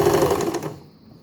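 An Empisal Dressmaker 270D sewing machine runs a zigzag stitch in a brief, steady, close whirring burst that stops abruptly.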